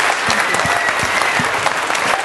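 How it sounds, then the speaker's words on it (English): Steady applause from a crowd, dense clapping that holds at an even level throughout without pause. "can we give one more big round of applause to Julianna?"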